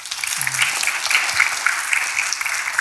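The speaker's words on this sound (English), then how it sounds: "Please give her another round of applause." Audience applause at a talk on chronic kidney disease in Philadelphia, a steady wash of many hands clapping throughout, moderately loud with no voices over it.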